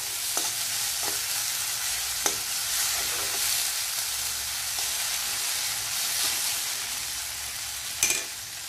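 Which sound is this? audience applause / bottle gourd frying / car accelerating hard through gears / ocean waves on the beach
bottle gourd frying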